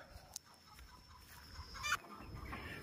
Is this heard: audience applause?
no